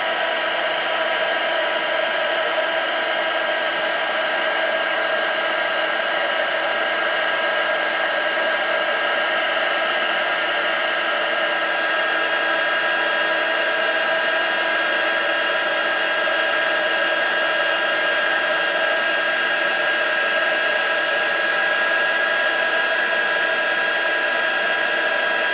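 A heat gun blows steadily on stencil medium, a continuous loud whooshing hiss of air and motor that holds unchanged and alone without a break.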